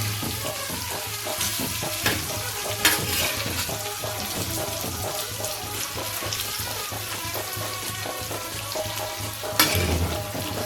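Pieces of grouper fish sizzle steadily in a hot pan as they are turned over, with a constant close frying hiss and a few sharp clinks and scrapes.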